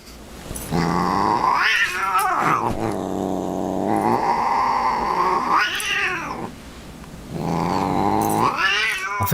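Cats growl and caterwaul in a loud, close fight, with long rising and falling yowls broken by short pauses and no voices over them.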